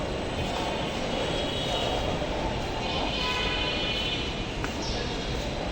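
A metro train rumbles steadily at a station platform, a broad continuous roar of wheels and motors holding level throughout with no clear speech.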